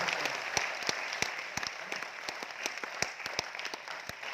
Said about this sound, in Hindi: ताली बजा लीजिए सर